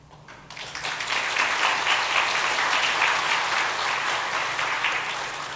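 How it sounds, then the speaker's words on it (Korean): A church congregation at Sunday worship breaks into warm applause welcoming a visiting missionary from Indonesia, swelling quickly and holding steady as a broad wash of clapping before easing slightly. "잠시 자리에서 일어나 인사해 주실 때에 박수로 환영하겠습니다."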